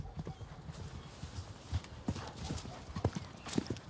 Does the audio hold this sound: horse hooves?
yes